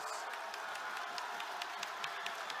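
Old Bridge fans at a boys volleyball state championship keep up steady applause and crowd noise during a third-set run, a dense, continuous wash of clapping and cheering heard from a distance.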